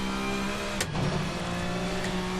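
A front-wheel drive touring car engine in the Assetto Corsa racing game holds a steady, loud drone with a brief sharp transient partway through, continuous throughout with no voices.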